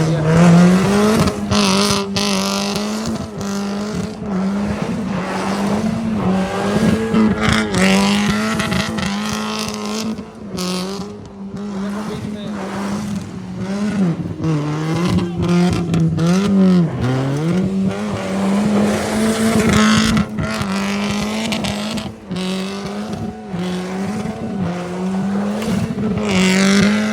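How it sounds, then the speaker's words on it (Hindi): Cars drifting at a street stunt gathering with a loud aftermarket silencer: a continuous, loud engine drone with rising and falling revs and tire squeal runs throughout the clip, close by and unbroken. "सन्नी सलेंसर तो सही बड़ी आवाज आ रहा है।"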